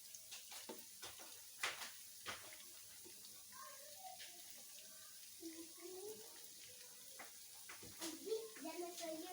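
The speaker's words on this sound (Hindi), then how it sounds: "ये देखिए ये पक रहे हैं" Sweet rice balls sizzle softly in hot oil in a pan, a faint, bubbling crackle with a few clicks, heard under a voice.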